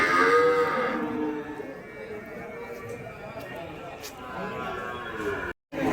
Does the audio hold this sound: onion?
no